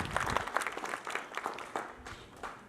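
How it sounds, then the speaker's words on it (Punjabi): An audience at a memorial trust and literary society event in Manuke claps for Sardar Rachhpal Singh: steady, dense applause that fades gradually over a few seconds, with no voices over it. "ਇਹਨਾਂ ਨਾਲ ਤਾੜੀਆਂ ਜ਼ਰੂਰ ਮਾਰੋ।"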